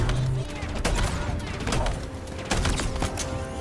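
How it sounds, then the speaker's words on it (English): Shotgun blasts from first-person gameplay in Halo Infinite: several sharp, booming shots spaced about a second apart over a steady bed of game noise. "look at the range of that shotgun"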